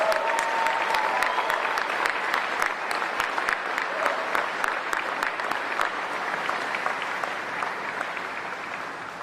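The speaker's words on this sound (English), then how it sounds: "Please give yourself a round of applause." Sustained crowd applause at the opening of a Schneider Electric manufacturing plant in El Paso, a dense, loud wash of clapping with a few voices mixed in, slowly fading toward the end.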